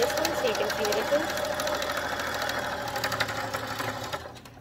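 A sewing machine stitches a fabric gift bag, a steady close mechanical whirring chatter with rapid needle ticks, running continuously before winding down at the end, with a voice talking over it.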